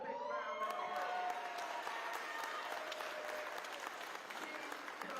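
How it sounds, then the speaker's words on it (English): Audience applause at a Lakers ribbon-cutting ceremony in Nickerson Gardens, a dense, sustained wash of many hands clapping from start to finish, with faint cheering mixed in. "Give her a big round of applause."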